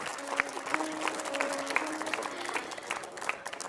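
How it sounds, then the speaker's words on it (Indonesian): An audience at an Indonesian talk-show event gives a round of faint, scattered clapping that keeps going for several seconds while voices carry on over it. "Boleh kasih aplaus?"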